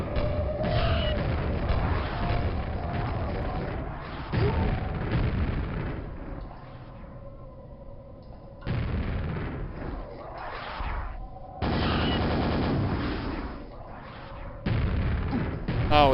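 Grenade blasts in Quake, played on PC through Yamagi and Quakespasm: repeated heavy booms in clusters separated by quieter gaps, loud and close, with other gameplay sounds between them.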